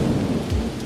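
Steady heavy rain with a low thunder rumble, a dense wash of hiss and patter heard continuously and fairly loud as a sound effect in an animated story, with no voices over it.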